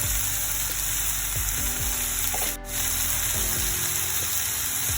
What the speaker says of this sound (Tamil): சேர்த்துட்டு நல்லா தக்காளி பழம் எல்லாம் வதங்கி வரட்டும்